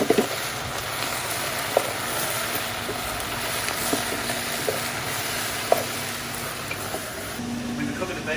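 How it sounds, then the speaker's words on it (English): Mixed vegetables and mushrooms frying in a pan as the base for braised brisket, a steady close sizzle with occasional stirring clicks, no voices over it. "We've been cooking the veg for a little bit now."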